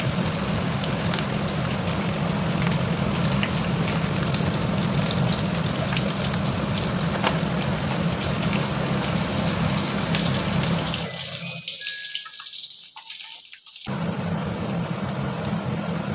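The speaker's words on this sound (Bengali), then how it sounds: "বেশি তেলে রান্না, জিরে ফোড়ন দিয়ে দিচ্ছি" Cumin seeds dropped into a generous amount of hot oil make a loud, steady hiss close by, which dips briefly near the end before the sizzle resumes.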